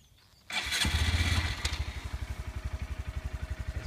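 A Honda MSX 125 Grom motorcycle engine kicks into life and settles into a fast, throbbing idle, its exhaust pulsing in a steady rhythm close by.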